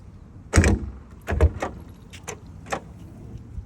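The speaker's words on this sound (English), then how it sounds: "I did do some upgrades to the frunk. So let me get this open for you here." Front trunk of a car being opened, with a loud latch clunk and a couple of lighter follow-up clicks and thuds, close and distinct with no talk.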